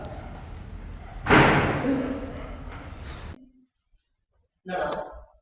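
A door bursting open with a loud heavy slam and thud that rings out for about two seconds over steady background noise, followed by a brief exclamation from a voice.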